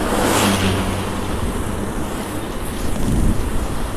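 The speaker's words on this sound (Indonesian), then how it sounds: "wih kendaraan sangat ramai ini didominasi oleh kendaraan" Busy road traffic dominated by minibuses and small cars rushes past in a continuous loud roar, with engine rumble swelling as vehicles pass close by on a bright day.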